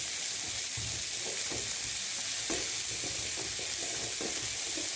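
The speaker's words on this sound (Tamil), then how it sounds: "நல்லா வதங்கிடுச்சு. இப்போ எடுத்து நம்ம பருப்பில் போடுவோம்." A sautéed tempering is tipped into cooked moong dal kuzhambu, and a loud, continuous sizzle follows, close up, with light stirring scrapes through it and no voices.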